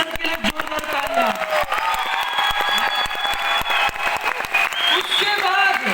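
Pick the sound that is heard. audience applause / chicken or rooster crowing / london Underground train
audience applause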